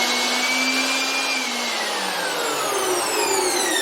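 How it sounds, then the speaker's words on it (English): A Makita blower warming up, its loud steady whine rising and then gliding down in pitch as the motor spins, close to the microphone, with a dense airy rush throughout and no talking. "Sorry about that noise, it's warming up the blower."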